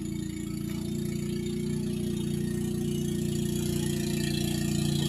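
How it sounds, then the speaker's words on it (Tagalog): A motorboat engine runs on a nearby river, a steady mid-pitched drone that holds constant and grows slightly louder over the five seconds, heard alone without talk. "tunog ng bangka"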